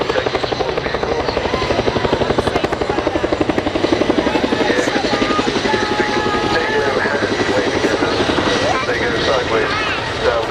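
An RAF Chinook twin-rotor helicopter performs an airshow display at Cosford, its loud, steady rotor chop beating rapidly and close throughout, with a commentator speaking over it.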